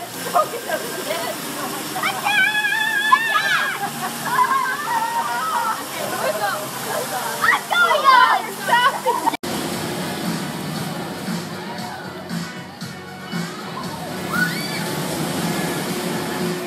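Water splashes and sloshes from a soaking contraption at a Legoland Florida play area, with a rushing, waterfall-like spray in the second half and voices and outdoor chatter over it.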